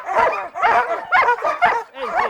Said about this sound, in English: Goro is a German Shepherd Malinois mix.